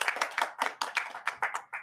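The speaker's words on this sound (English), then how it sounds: "let's give them a round of applause" A round of applause at a board general meeting, with distinct, irregular hand claps from a small group, fairly close and crisp, continuing without pause and no talking over it.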